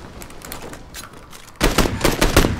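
Video game gunfire from M4 and SKS rifles: a quicker, quieter string of shots is followed by a much louder burst of rapid close-range fire.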